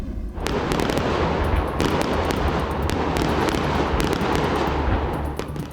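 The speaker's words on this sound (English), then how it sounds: "It was a beautiful night for some fireworks in Regina." Fireworks crackle and bang continuously at Wascana Park in Regina on a summer night, a dense, loud barrage of pops and booms with sharper reports standing out, heard outdoors without talk.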